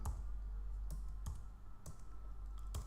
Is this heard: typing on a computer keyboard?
yes